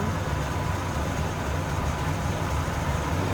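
A 1941 Cadillac Series 61 Sedanette with its 346 cubic inch engine runs steadily at idle, a loud, smooth, continuous low rumble with no talk over it.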